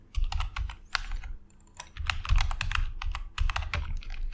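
Rapid keystrokes on a computer keyboard as Laravel PHP code for joining database tables is typed, bursts of clicking broken by short pauses, close and fairly loud with no one talking.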